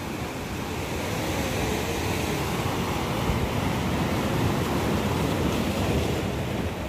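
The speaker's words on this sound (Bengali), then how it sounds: "প্রচুর ঢেউ এখানে।" Ocean waves breaking on the beach at Mohona, Digha, a loud, continuous roar of surf with wind buffeting the microphone throughout.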